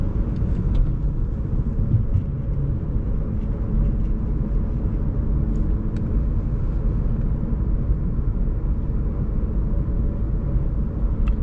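Steady low engine drone and road rumble from a manual-transmission car cruising in fourth gear at about 2,100 to 2,200 RPM, continuous and even throughout with no gear changes or talk.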